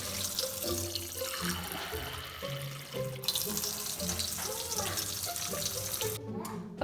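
Tap water runs steadily as it is measured out for beans in a slow cooker crock pot, a continuous splashing flow heard close and fairly loud, with clattering kitchen sounds in the background and no talking.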